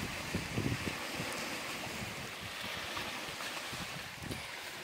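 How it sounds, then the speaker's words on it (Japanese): Sea waves wash onto the shore in a steady, full rush of surf, with gusting wind noise over it and no talking. "やっぱ海いいな。"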